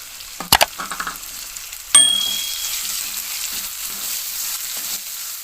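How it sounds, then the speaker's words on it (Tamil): Ginger garlic paste and tomatoes frying in a pan for a roadside-style goat intestine curry, with a sharp clatter early on, then a loud burst of sizzling as something hits hot oil that settles into a steady crackle. "இஞ்சி பூண்டு பேஸ்ட் வந்து சேர்த்துருக்கேன் நல்லா வதங்கட்டும்"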